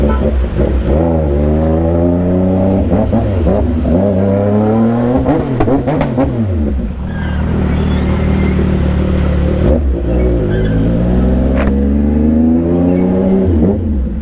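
A CFMOTO 675NK motorcycle fitted with a full-system exhaust revs repeatedly in heavy traffic, its loud, close engine note rising and falling in long sweeping pulls with brief dips between, and no voices over it.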